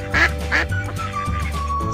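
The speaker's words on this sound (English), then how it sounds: "Yellow duck." Yellow toy duck quacking twice in quick succession, close and clear, over a looping children's song melody.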